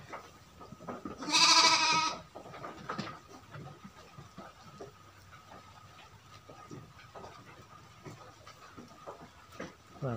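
Sheep and lambs on a mountain farm at Gunung Kawi, Malang, with one loud nearby bleat followed by quieter intermittent calls and shuffling over a busy farmyard background.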